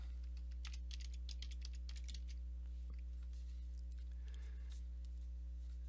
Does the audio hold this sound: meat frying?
no